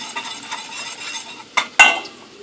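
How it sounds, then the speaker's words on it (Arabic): Whisk stirring milk and butter in a pot, with a steady soft scraping swirl through the bowl, then two sharper clatters of the whisk against the rim close by; no talking. "اقلب كده بالمضرب بتاعي"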